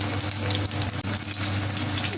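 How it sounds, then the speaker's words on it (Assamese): Bitter gourd pieces coated in gram-flour batter frying in hot oil, a steady close sizzle and crackle running continuously with no talk. "এতিয়া ভাতকেৰেলা বেচনি ভাজিছোঁ"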